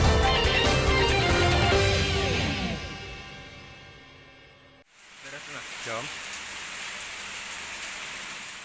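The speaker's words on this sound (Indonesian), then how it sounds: "Curah hujan masih tinggi, warga Kota Banjarmasin diimbau waspada banjir." Rain falling during a period of heavy rainfall in Banjarmasin, South Kalimantan, a steady hiss that fades midway, cuts off briefly, then returns as softer patter with a voice speaking over it.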